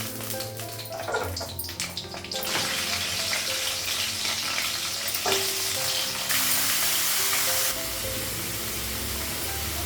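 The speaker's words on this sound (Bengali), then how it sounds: "পাঁচফোড়ন দিলাম, কাঁচা লঙ্কা দিলাম" Panch phoron spices and green chilies sizzle in hot oil in a home kitchen, a steady close crackling fry running throughout with occasional stirring clatter and brief bursts of louder spitting, no voices.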